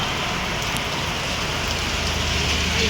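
Heavy rain pours steadily onto a street in Bowbazar, Kolkata, as a dense, close, unbroken hiss that stays loud and even throughout, with no voices.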